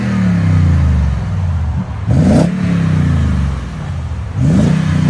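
Toyota Tundra 5.7L V8 with an aftermarket exhaust, muffler removed and 5-inch tips fitted, idling with a deep burble, then two sharp revs climbing and falling back, close and loud with no talk.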